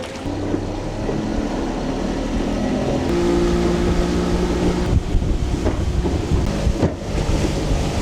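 Steady low engine rumble of a small boat on a short crossing over the water to a floating village in Brunei, continuous and fairly loud throughout with faint splashes and no talk.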